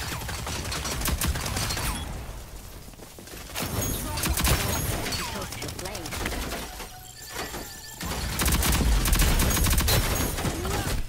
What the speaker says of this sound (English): I got shot from behind